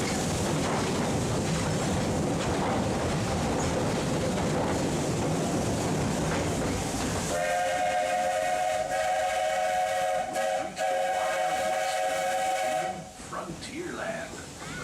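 Steam train of the Magic Kingdom railroad at Disney's Magic Kingdom, first chugging and hissing loudly for several seconds, then a long sustained steam whistle blast sounding close and strong over the rumbling ride.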